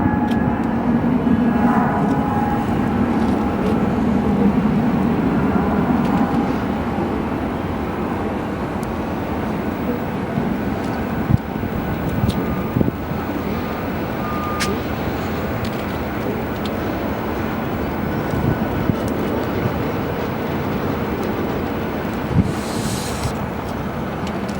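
A jet airplane departing Phoenix Sky Harbor Airport roars steadily in the distance, a broad sustained rumble with wind noise and a few faint knocks, no talk.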